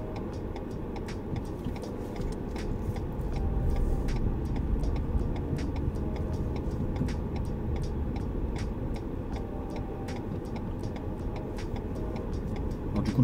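A car turn signal indicator ticks steadily inside a vehicle during a driving-test practice drive, with a regular, close clicking rhythm over the constant low hum of the car on the road.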